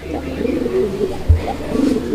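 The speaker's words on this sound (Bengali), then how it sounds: "কবুতর যখন ডাকানো হয়" A racer pigeon coos in a low, close, rolling call that swells and fades over a couple of seconds, with faint background noise underneath.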